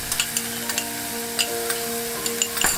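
Onion sautéing in oil in a pot, a steady close sizzle broken by several sharp stirring taps and scrapes, with a louder clatter just before it stops.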